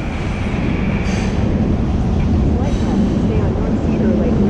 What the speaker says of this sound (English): I thought the train was kind of cool.